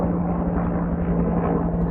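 A helicopter passes overhead while a Ram Rebel 2500 truck is parked outdoors, heard as a steady, fairly loud rotor drone with a low hum that continues without letting up.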